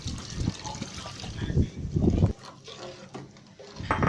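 Thin coconut milk poured into fried red curry paste in a pot, a steady liquid trickle and splash with some clatter, close and moderately loud, easing off briefly before picking up again near the end.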